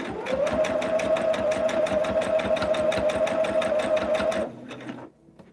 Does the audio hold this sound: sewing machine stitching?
yes